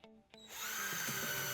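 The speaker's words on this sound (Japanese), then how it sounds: "3mm のドリルビットで下穴を開けます" A power drill with a 3mm bit bores pilot holes in wooden boards, starting after a couple of faint knocks and then whirring steadily and close for about a second.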